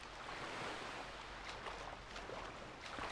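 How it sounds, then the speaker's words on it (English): Steady rain and gusting wind on a stormy day in The Legend of Zelda: The Wind Waker HD, a continuous broadband wash with brief brighter spatters, moderately loud and without speech. "Unfortunately, it has to be a rainy day, but oh well."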